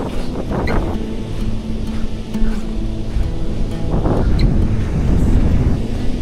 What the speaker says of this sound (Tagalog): Lakas ng hangin dito, parang mapapaspasan tayo ng hangin dito.